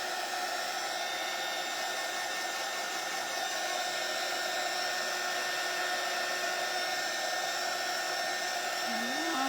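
A hair dryer blows steadily and close for the whole stretch, its constant airy whine drying a craft kit without pause.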